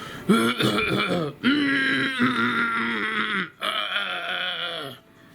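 A voice imitates throat clearing and coughing, a run of loud, rasping, groaning hacks in several bursts separated by short pauses.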